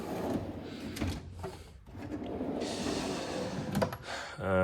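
A heavy metal tool drawer in a home garage slides open or shut with a long rumbling, rattling scrape, loud and close.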